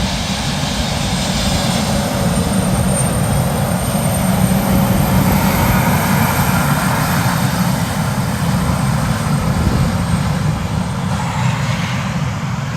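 KLM airliner at Bristol Airport, a loud continuous engine roar filling the air throughout, close and steady, with no talk.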